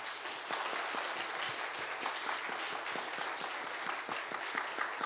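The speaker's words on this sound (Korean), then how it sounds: "우리 박수 한번 다시 한번 하겠습니다" Steady, dense applause from a large church congregation at an anniversary service, many hands clapping continuously at an even level with no talking.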